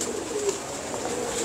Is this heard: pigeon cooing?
yes